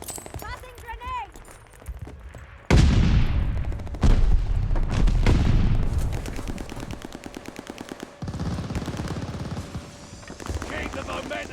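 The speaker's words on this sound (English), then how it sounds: "Tossing grenade!" A heavy grenade blast booms in a video game shooter, followed by more explosions and rapid gunfire. Voices call out over the battle noise.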